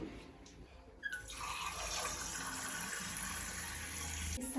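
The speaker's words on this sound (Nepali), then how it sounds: "अरे पानी भरिहाल्छु" Water from a tap starts abruptly after a second of quiet and keeps running steadily, a bright, close splashing rush as a container fills indoors.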